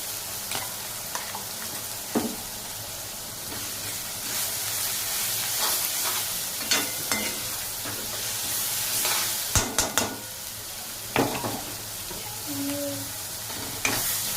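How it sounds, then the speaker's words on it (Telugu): Green chillies frying in hot oil in a pan for an eggplant and spinach curry, with a steady close sizzle and crackle and occasional sharp pops and stirring scrapes throughout. "సో ముందే పచ్చిమిర్చి వేస్తున్నాను. ఇది మంచిగా ఫ్రై అవ్వాలన్నమాట ఆయిల్లో."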